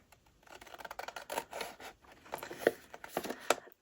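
Scissors snip through two folded paper sheets in short, quick, crisp cuts, close and faint, with a few brief pauses between strokes.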